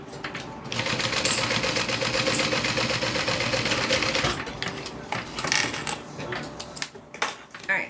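A sewing machine top stitching vinyl, running in a fast, steady mechanical whir with rapid needle ticks for several seconds, then slowing and stopping into scattered clicks and handling noises, close.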